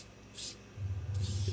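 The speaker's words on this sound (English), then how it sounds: "spray a little bit of this on here." Cleaner sprays onto an acoustic guitar in two short hissing bursts, a brief spritz followed after a pause by a longer one, with some low handling rumble underneath.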